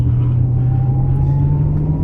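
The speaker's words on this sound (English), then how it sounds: "I like that rumble too." A Ferrari 812 Superfast's 789 hp V12 rumbles in a steady low, loud drone from inside the cabin, with no voices.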